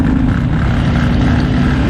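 2021 Indian Roadmaster motorcycle engine at full throttle with a mode fault, a loud, steady droning roar with a constant hum, close and uninterrupted with no talking.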